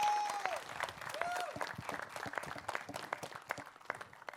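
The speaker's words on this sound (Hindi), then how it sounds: "एक बार जोरदार तालियां यार" Audience applause at a press conference rises under a voice, a busy patter of many hands clapping with sharp individual claps, while talk and a brief whistle-like tone sit on top early on.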